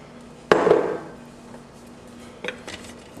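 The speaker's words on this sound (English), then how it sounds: "Now we are going to add in our 2 pounds of shrimp" Two pounds of shrimp drop into a simmering New Orleans-style Shrimp Creole pot with one sharp, close clatter and splash, then fade into quiet, with a couple of faint clinks a couple of seconds later.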